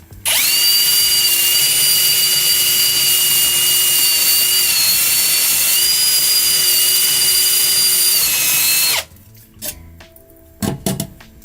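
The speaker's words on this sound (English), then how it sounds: "it's way easier, I should say, to drill into it than metal" A power drill bores into aluminum for a DIY live-streaming rig, a loud, steady high-pitched whine holding for about nine seconds with a brief dip midway, then stopping abruptly, followed by a few faint clatters.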